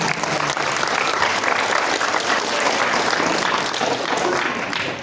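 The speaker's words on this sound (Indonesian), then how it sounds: "Tepuk tangan untuk kita." A packed school audience at SMPN 1 Kademangan, during a 2025 Jaksa Masuk Sekolah program, gives loud, sustained applause, a thick even roar of many hands clapping without pause.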